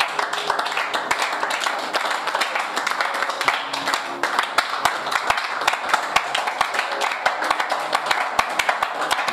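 A church congregation claps and applauds together, dense and continuous with sharp individual claps cutting through, loud and close, with some voices mixed in underneath.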